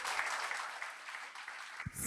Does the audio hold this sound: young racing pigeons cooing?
no